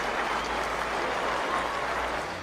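Cricket crowd at Headingley applauding Steve Smith in a Pakistan versus Australia match: a sustained, distant roar of clapping from a large stadium audience, steady throughout with no talk over it.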